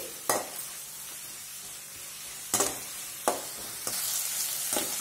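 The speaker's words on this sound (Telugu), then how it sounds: "2 పచ్చిమిర్చి చీలికలు, 2 డ్రై చిల్లీస్ వేసుకొని ఆనియన్స్ని 1 నిమిషం పాటు వేపుకుందామండి." Sliced onion with slit green chillies and dry red chillies frying in oil, a steady sizzle broken by a few sharp stirring scrapes at intervals, close and alone without voices.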